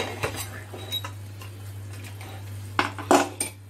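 Pressure cooker lid being opened after cooking lauki with Punjabi urad dal wadiyan: light metallic clinks and scrapes of the lid and pot, a few sharper knocks near the end, over a low steady hum.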